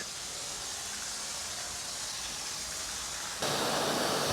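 Foam sprays steadily onto a BMW 750iL V12 at a car wash, a continuous broadband hiss that jumps abruptly louder and brighter near the end as the spray intensifies, with no talking.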